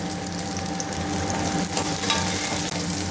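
Onions sautéing in a pan for a vegetable biryani, giving a steady close sizzle with faint stirring scrapes throughout and no talk.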